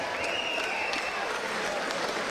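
A crowd applauds both boxers after a grassroots boxing bout, Harry Edgecumbe's debut against Michael Mooney, with steady, dense clapping that holds at an even level throughout.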